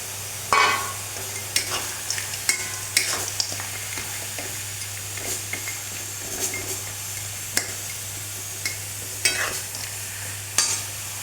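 Carrots and peas fry in a pan for fried rice, a low steady sizzle broken by sharp scraping strokes of a spatula stirring at uneven intervals, no talking.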